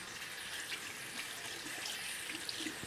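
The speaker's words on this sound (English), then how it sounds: "Then you want to run some cold, clean water to rinse all the residual soap out." Cold water runs steadily from a tap while clothes are rinsed, a continuous close hiss and splash with no pauses.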